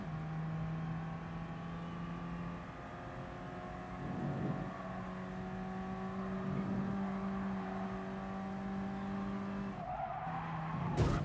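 A Peugeot race car in the GT Sport video game understeers with its front tires squealing, a sustained skidding whine over the engine drone that swells several times and ends with a brief knock.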